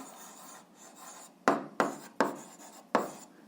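Pen on paper as an algebra answer is written down, a soft scratching followed by four distinct stroke bursts in quick succession, close and quiet, with no talking.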